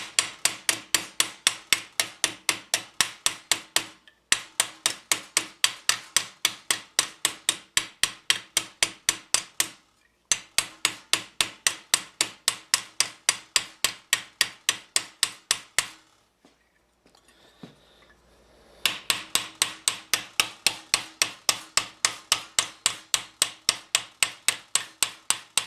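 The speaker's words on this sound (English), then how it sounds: "These are not hard hammer hits." Light, rapid hammer blows ring on steel plate for a mitten gauntlet, struck in long even runs of quick taps, close and crisp, broken by a few short pauses and one longer quiet gap.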